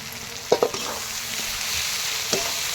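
Koel bird meat being bhuna-fried with Kashmiri chilli powder, turmeric and spices in a pan, a steady close sizzle with a few sharp scraping stirs of the spoon, no talking.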